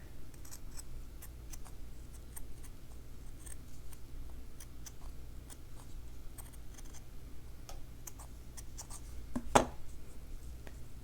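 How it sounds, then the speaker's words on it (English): Scissors snip around fabric flowers in a slow-stitching project, making a light, steady series of close, quiet cuts and ticks with one sharper snap near the end. "So now I'm just going to cut around the flowers here."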